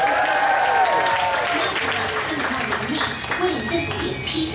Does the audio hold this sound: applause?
yes